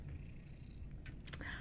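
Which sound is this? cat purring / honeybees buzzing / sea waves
cat purring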